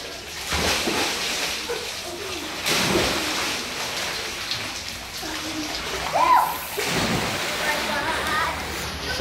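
Children splash while swimming in cold water, with several sharp splashes scattered among steady watery noise as kids talk and call out nearby.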